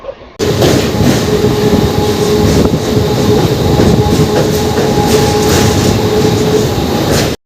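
The Baghajatin Express, running hours late, rolls along with a loud, continuous rumble and rhythmic clatter of wheels on rails, heard from close by throughout without a break.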